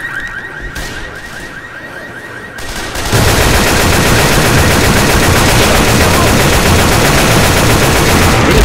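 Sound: gunfire in a video game

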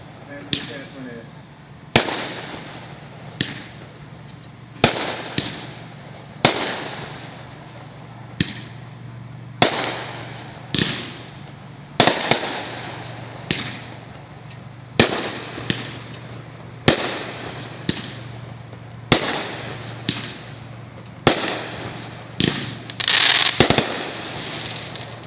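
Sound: fireworks shells firing

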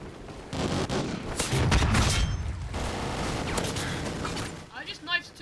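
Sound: gunfire in video game Call of Duty Ghosts

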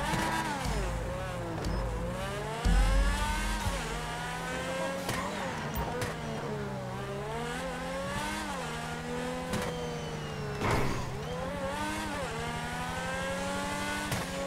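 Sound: car engine revving in video game

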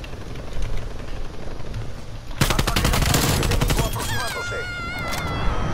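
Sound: helicopter and gunfire in Call of Duty Cold War video game

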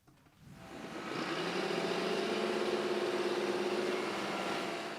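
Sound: tractor engine running while sowing winter wheat

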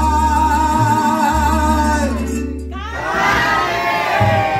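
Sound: crowd shouting a girl's name

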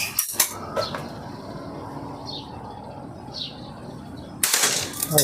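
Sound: slingshot shots fired at a target

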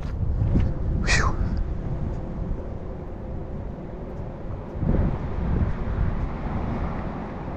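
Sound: wind blowing during an outdoor walk

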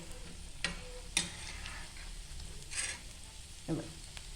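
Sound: drumstick leaf cutlets frying in pan

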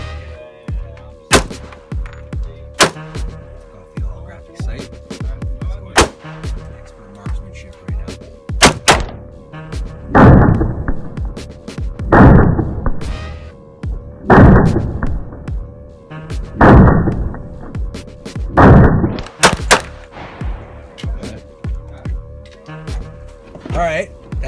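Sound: guns being fired at a shooting range

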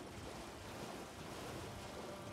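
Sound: waterfall in video game Elden Ring

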